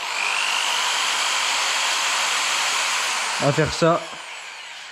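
A power drill with string clamped in its chuck twists the strands into a braided rope, giving a steady high whine that runs almost throughout, with a brief voice breaking in near the end.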